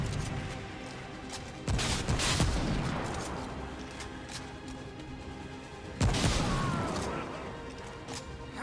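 Gunfire in the video game Remnant: From the Ashes, two heavy, loud shots with long rumbling decays several seconds apart, over a steady low background hum.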